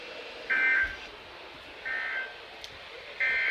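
A weather radio EAS alert receiver sounds its alarm tone in three short, identical bursts spaced about a second apart against a quiet room background.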